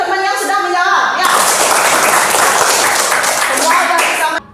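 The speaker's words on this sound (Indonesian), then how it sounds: "kasih tepuk tangan dulu buat teman-teman yang sudah menjawab ya" A classroom of children claps together for classmates during a Hindu religion lesson, a dense burst of applause lasting a few seconds and quickly fading, with a teacher's voice talking at the start and end.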